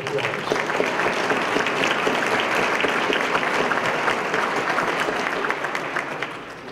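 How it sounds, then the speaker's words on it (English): An awards-ceremony audience applauds sponsors with a dense, steady round of clapping that holds for several seconds and then gradually thins toward the end. "let's give them a round of applause"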